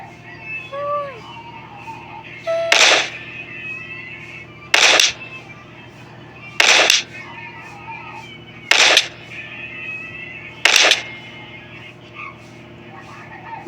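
Gunfire in a zombie video game, Playground latest version: five sharp, evenly spaced shots about two seconds apart ring out over a low, steady game ambience.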